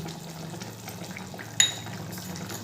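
Fried bitter gourd going into a pan of Bengali sukto, a steady low bubbling simmer with a single sharp metallic clink partway through, quiet and without talking.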